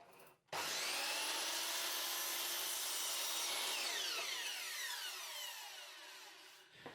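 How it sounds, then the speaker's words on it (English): A power saw cuts scrap timber down to a manageable size in a home workshop, starting abruptly with a loud sustained whine and cutting roar that slowly fades as the blade spins down, ending with a soft knock. "the first thing I'm going to do is cut this into a bit more manageable size"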